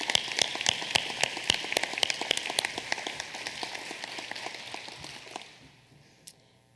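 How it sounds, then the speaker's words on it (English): Audience applause at a 2014 school convocation: dense broadband clapping from a large crowd heard from a distance, steady for about five seconds before fading out. "let's give all of those efforts a big round of applause"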